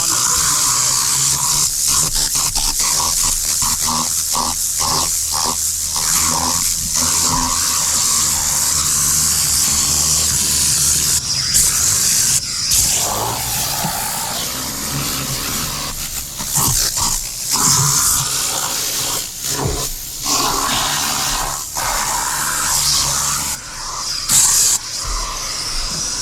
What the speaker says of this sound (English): My air compressor's running out of air.